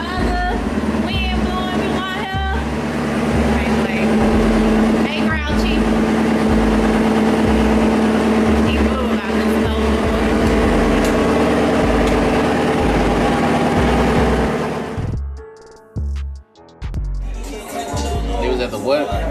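A convertible car's engine idles with a steady low throb while someone talks over it; the engine noise drops away sharply near the end.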